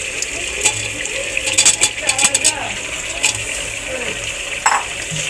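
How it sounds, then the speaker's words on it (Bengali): Potatoes go into a pan of sizzling country rooster curry, giving a continuous fry hiss punctuated by quick clinks and clatters of stirring. "এখন আমি এটার মধ্যে আলু দিয়ে দেবো।"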